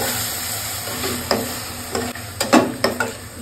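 Spice paste with salt, turmeric and coriander powder is stirred in a frying pan for fish curry with banana: a constant close sizzle, with a run of scraping spoon strokes growing busier toward the end, no voices.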